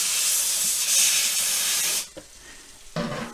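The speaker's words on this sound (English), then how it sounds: "I come over here to the steamer. And I steam everything off to clean and sanitize each piece." A steamer blasts pieces of a one troy ounce pure gold bar clean during refining: a loud, steady close hiss for about two seconds, then a quiet pause with a small clatter and a short renewed burst of steam.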